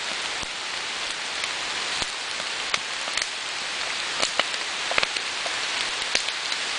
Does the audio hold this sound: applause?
no